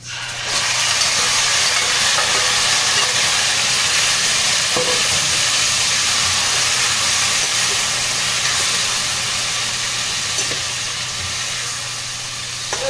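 Yogurt-marinated chicken sizzles and hisses steadily in a hot pan (kadai), a loud continuous frying noise with faint stirring clicks throughout.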